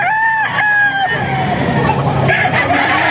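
A stag rooster crows at a Bocaue poultry auction market, a loud, close cock-a-doodle-doo with a few more calls over a busy background of other birds and crowd noise.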